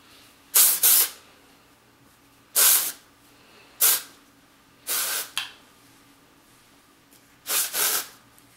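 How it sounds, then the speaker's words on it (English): Short hissing bursts of aerosol texture spray into hair, in quick pairs and singles, several in a row with pauses between, close and clear. "I just like to lift sections and spray it in"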